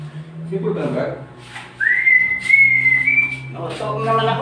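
A person whistles a long, rising then level tone near the microphone, with someone talking before and after it.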